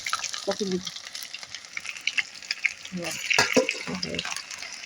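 Onion-greens pakoras fry in hot oil on a stove, giving a steady crackling sizzle with occasional stirring scrapes, close and moderately loud throughout.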